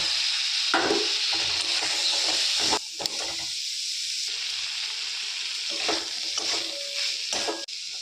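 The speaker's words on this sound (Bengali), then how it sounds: "মশলা কষা হয়ে গেছে রান্নাটা খুব অল্প তেলেই রান্না এবং অল্প মশলাতেই রান্না এরপর আমি কেটে রাখা আলুগুলো দিয়ে দিলাম" Cut potatoes dropped into spices frying in a little oil in a pan, a loud close sizzle and hiss with stirring scrapes, dipping briefly and rising again in bursts, with no voices.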